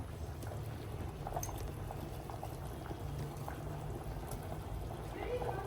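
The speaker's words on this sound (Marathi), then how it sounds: "आता याला चांगली उकळी आलेली आहे." Low bubbling of potato and pea khichdi boiling in a pot, steady and fairly quiet, with faint clinks and a voice murmuring in the background.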